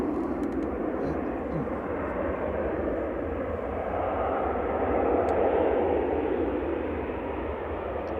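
A Ryanair Boeing 737-800 near Manchester Airport gives off a broad, steady engine roar that holds at a constant level throughout, loud and continuous.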